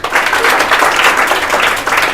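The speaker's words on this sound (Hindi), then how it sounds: "बजाओ ताली," Children in a classroom clap their hands together in a steady, dense patter that fills the whole moment, sounding close and fairly loud with no voices over it.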